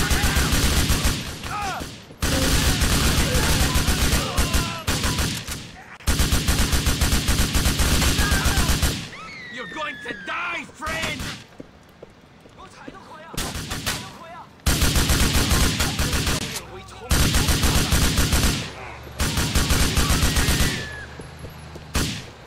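Heavy, sustained gunfire in Grand Theft Auto 4, loud automatic bursts lasting several seconds each and broken by short pauses, close and dominant, with no talk.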